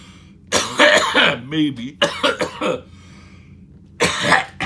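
Several harsh coughs and throat clearing come in bursts at close range, with a strained, breathy voice between them.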